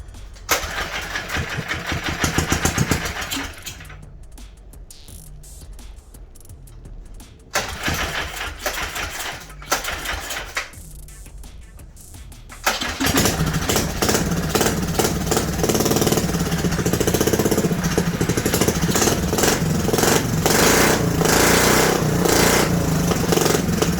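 A mini bike engine on choke sputters through start attempts with rough bursts and brief pauses, then catches and settles into a loud, steady, rattling idle that runs on to the end.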